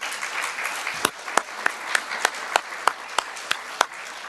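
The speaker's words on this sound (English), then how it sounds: "give them a big smile and applause too, please" Conference audience applauding, a steady wash of many hands with sharper individual claps popping through at regular intervals, fairly close and unbroken by speech.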